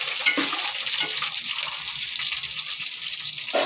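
Bitter gourd frying in a pan for an onion-chili kakarakaya dish, a steady close hiss of oil sizzling with faint stirring scrapes, continuous and moderately quiet, no talking.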